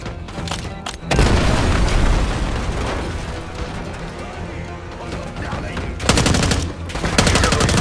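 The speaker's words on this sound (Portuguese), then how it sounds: "Bombardeio chegando!" A bombardment in Call of Duty: Black Ops 6 brings loud, continuous rumbling blasts and crackling bursts, with heavy booms swelling again near the end.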